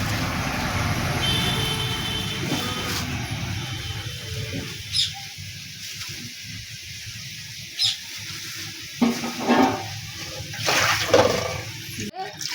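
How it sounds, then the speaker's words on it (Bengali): Cut fish is washed with water, and a running, splashing wash fills the first seconds before easing into scattered splashes and handling sounds, with faint bird chirps in the background. "জল দিয়ে ভালো করে ধুয়ে নিচ্ছি"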